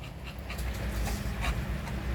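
A dog pants quickly and steadily at close range over a low background rumble.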